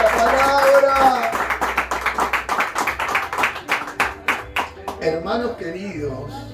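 A church congregation claps together in a run of sharp, rhythmic beats that grows and then thins out, with singing or voices mixed in near the end.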